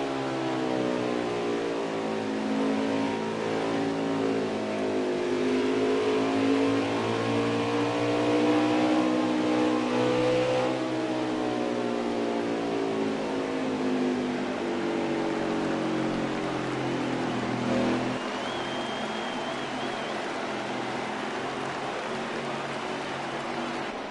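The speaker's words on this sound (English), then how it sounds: "Listen in to that engine and tell me what he's trying to do here with his race car." A stock car engine in NASCAR Heat 4 drones loudly and steadily, its pitch climbing and falling as the car works through a lap at ISM Raceway, with no talk.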